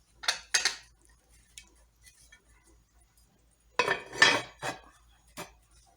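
Metal lid and cookware clatter and clink in two close clusters of sharp knocks as a pot of boiling jollof rice is covered, with quiet gaps between.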